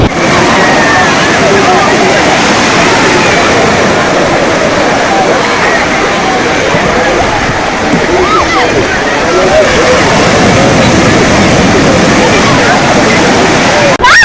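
Surf of the Bay of Bengal at Perupalem beach, a continuous loud broadband wash of breaking waves with steady roar throughout and faint voices in the background.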